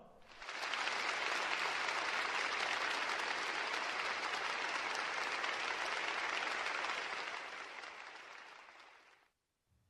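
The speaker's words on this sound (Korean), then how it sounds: "전체 화력발전소 노동계급에게 뜨거운 박수를 보내줍시다" An audience gives a sustained round of applause for thermal power plant workers, many hands clapping in a dense, even roar that holds for about eight seconds before tapering off and stopping.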